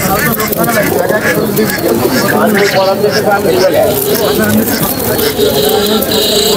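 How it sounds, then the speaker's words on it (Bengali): Pigeons, including a Rajshahi Giribaz and a local breed, coo steadily at a busy rural pigeon market, a soft continuous cooing under loud nearby conversation and crowd chatter. "হ্যাঁ, এটা একটা রাজশাহী গিরিবাজ, আর এটা হচ্ছে দেশি কবুতর।"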